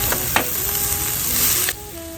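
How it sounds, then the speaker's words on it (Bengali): Water lily stems sizzle loudly in a hot pan, a continuous close hiss with a few sharp crackles and scrapes, then a sudden drop to a softer simmer near the end. "এখন দিয়ে দিব শাপলাগুলো।"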